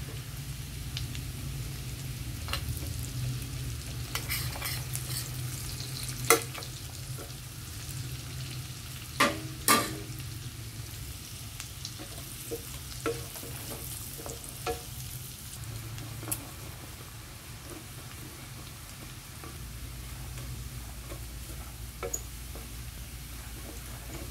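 Onion and garlic sauté in butter in a pan, giving a steady soft sizzle with a few sharp utensil clicks scattered through. No one speaks.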